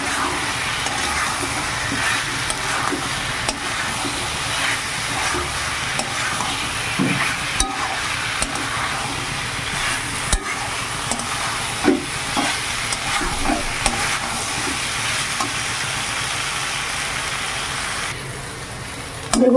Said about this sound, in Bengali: সোয়াবিন ভাজাগুলো দিয়েও আরেকটু ভালো করে কষিয়ে নেব